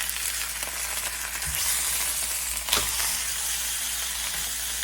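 A beef roast sears in a pan on a wood stove, with a loud, continuous close sizzle and a couple of brief knocks as the meat is flipped.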